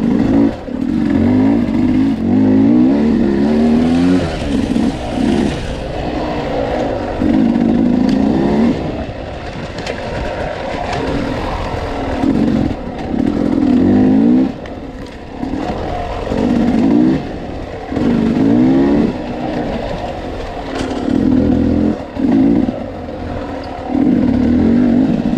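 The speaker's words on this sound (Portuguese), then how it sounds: "Tem muita moto diferente, muita moto importada, dois tempos," Motorcycle engines, two-stroke and four-stroke, rev repeatedly in loud bursts, rising and falling throttle blips close by with rough, rattling exhaust between revs.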